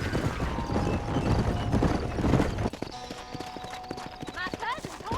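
Horse hooves clip-clop at a steady gallop during a horse race in the video game Red Dead Redemption, a dense rhythmic pounding mixed with voices and game sound, followed by a lighter stretch of hoofbeats.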